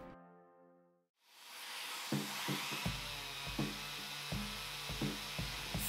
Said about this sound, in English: I jumped right in and began sanding